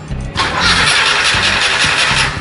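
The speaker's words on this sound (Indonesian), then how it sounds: "kita posisikan kunci kontak dengan starter selama 3 detik" An EFI car engine cranks on its starter during a compression test, a loud rhythmic churning of the starter turning the engine over steadily for about two seconds without catching, no voices.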